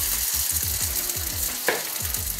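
A cauliflower and tofu vegan burger patty fries in a little oil, giving a close, continuous sizzle with crackling pops and a brief louder spatter partway through.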